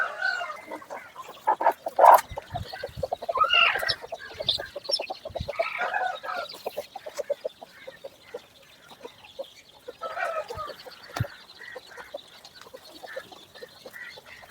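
An Abras breed hen with her chicks, giving repeated clucks and calls among soft high peeping and scattered pecking taps, close and at moderate loudness, with no talking.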